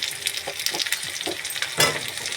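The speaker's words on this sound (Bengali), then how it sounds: "এবারে আমি এর মধ্যে আলুটা দিয়ে দেবো।" Cut potato pieces dropped into a hot pan with green chillies, setting off a loud crackling sizzle with stirring scrapes and a brighter burst of frying toward the end.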